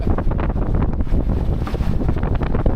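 Strong wind gusts across a microphone aboard a gaff-rigged Welsford Penguin trailer sailer near Arch Rock, a loud continuous roar and buffeting with water and sailing noise beneath, no voices.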